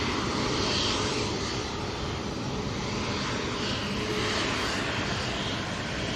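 An Emirates Airbus A380 taxis at Manchester Airport, its engines giving a broad, steady, loud roar with a constant whine that holds evenly throughout.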